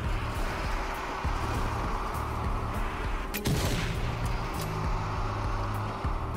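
Gunfire and explosions in the video game Zombie Army 4, with repeated thuds and a louder blast near the middle over a constant dense game soundscape.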